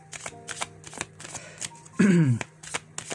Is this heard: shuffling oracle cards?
yes